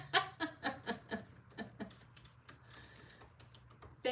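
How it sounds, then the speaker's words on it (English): A run of quick, close keystrokes on a computer keyboard at the start, then sparser, fainter taps over a quiet low hum. "And I am going to type in thank you."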